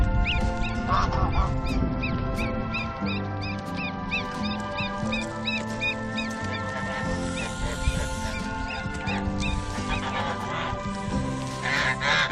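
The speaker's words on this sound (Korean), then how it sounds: "사고뭉치 토르도 아기 거위가 신기한지 따라다니고 아기 거위는 도망다니고 있다." Repeated loud honking from geese, a rapid run of calls that rises and falls against a busy outdoor background.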